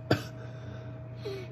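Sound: cough

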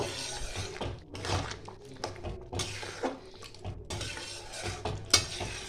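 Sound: stirring moong dal muri ghonto with coriander leaves

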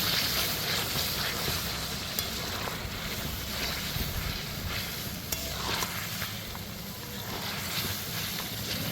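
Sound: stirring whisked yogurt into chicken in a pan

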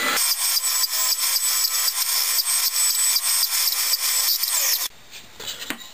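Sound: radius sander running on speaker box wood

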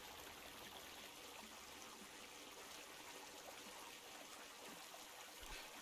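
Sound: stream flowing in the video game Kingdom Come

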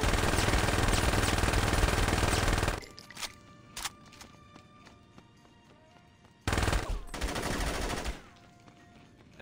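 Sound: gunfire from a video game

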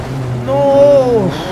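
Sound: rallycross car engine in Dirt Rally 2.0 video game

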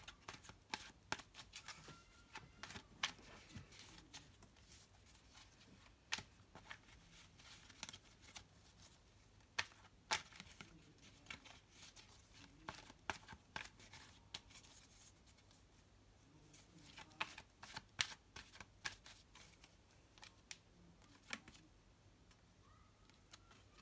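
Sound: shuffling tarot cards

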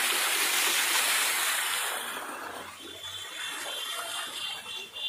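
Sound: waterfall at Dumra Park, Sitamarhi

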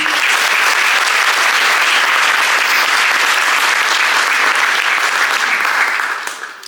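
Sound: audience applause

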